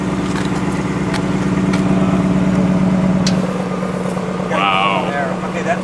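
A 2018 Ford Mustang GT idles in quiet exhaust mode with a steady, low, even rumble up close. People talk over the engine throughout.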